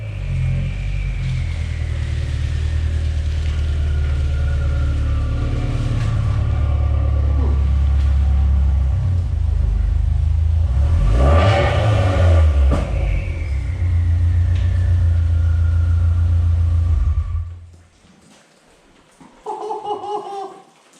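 A modified 2009 Subaru Legacy GT revs hard close by. A loud, deep engine roar builds with a rising turbo whine and peaks midway, then cuts off abruptly. People laugh and exclaim near the end.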